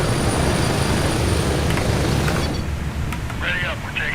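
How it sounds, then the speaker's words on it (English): Helicopters flying in a video game: a loud, steady rotor and engine roar fills the first part, then thins out as faint beeps and game sounds emerge. "Helicopters just flying everywhere"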